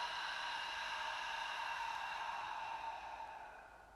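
A long, steady exhaled breath during yoga practice, close and soft, trailing off gradually near the end with no talk over it.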